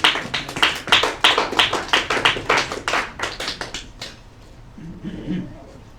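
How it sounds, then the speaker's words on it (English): Brief burst of clapping from a small group, sharp irregular claps for about four seconds that fade out, followed by a faint murmur. "Another round of applause."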